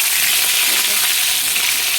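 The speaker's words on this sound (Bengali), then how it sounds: "একদিকে আলু ভাজবো, একদিকে মাছগুলো ভাজবো। দেখো আলুটা দিয়ে দিয়েছি, আলুটা ভাজা ভাজা হবে" Potatoes fry in a wok with a bright, continuous crackling sizzle, close and loud, steady throughout with no voices.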